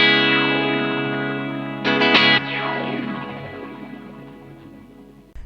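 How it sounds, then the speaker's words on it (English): A guitar chord runs through a Boss TE-2 Tera Echo pedal and hangs in a shimmering, distorted wash of repeats. A sudden strummed burst cuts in midway, then the delay trails keep ringing and slowly fade. "The Tera Echo also has delay trails, which means that when you turn the pedal off, the repeats are going to go on."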